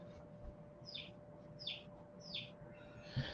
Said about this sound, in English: We got the beautiful luxury of the birds chirping, the duckies.